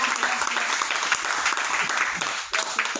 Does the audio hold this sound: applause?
yes